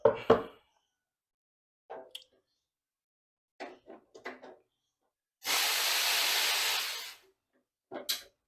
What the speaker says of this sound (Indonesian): Tenaga uap ini kalau semakin kencang, ini biasanya si press milk itu bisa jadi manis